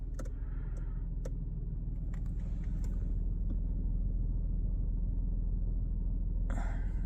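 A BMW X2 engine idles steadily at close range, a low continuous rumble with a few light clicks and knocks over it, and no talk.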